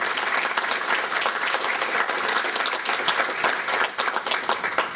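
Conference attendees give a welcoming round of applause to a visiting law professor, sustained dense clapping from a large crowd, loud and even for the whole stretch.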